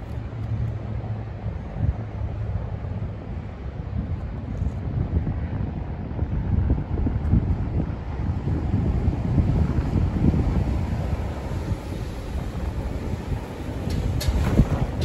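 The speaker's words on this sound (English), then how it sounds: "The wind's so strong, the tarp blows up" Strong high wind blows outdoors during a storm, a loud, continuous low rumble and buffeting against the microphone, with a tarp tied to a tractor fork dragging and flapping underneath.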